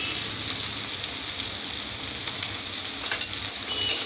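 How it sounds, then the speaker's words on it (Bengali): Shrimp fry in hot oil seasoned with salt and turmeric, giving a steady, close sizzle with faint crackles throughout and no talking. "এই চিংড়ি মাছটাকেও ভেজে নেব।"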